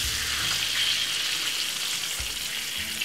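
Escovitch fish fries in hot oil, a steady close bubbling sizzle with crackles and a couple of soft low bumps, and no talking.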